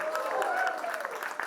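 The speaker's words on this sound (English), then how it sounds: "A big round of applause to all of them." Audience applause at a launch event for a creative space, a dense steady wash of clapping across the short moment with voices mixed in.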